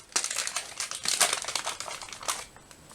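Crinkling plastic as a gusseted Ziploc coffee pouch from a South African vegetarian ration pack is handled up close, a steady run of crisp rustles and crackles with louder bursts in the middle, no voices.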